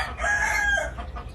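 A cinnamon-coloured rooster named Canelo crows once, close and loud, a single sustained call over low background rumble.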